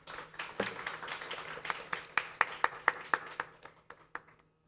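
A small audience at a university graduation ceremony claps for a professor, starting as scattered applause and settling into a few sharp, distinct claps before fading out.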